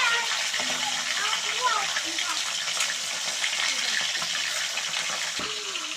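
Hilsa fish heads fry in mustard oil with a constant, hissing sizzle, while voices talk over it throughout.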